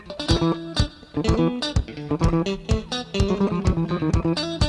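Punchy slap bass plays a fast, percussive riff with sharp popped notes and thumping attacks, loud and up close.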